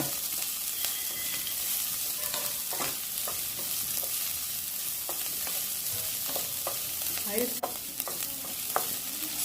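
Onions sizzle steadily in a hot pan while a utensil stirs through them, with scattered scrapes and clicks and no talking, while cooking mushroom fry with ghee rice.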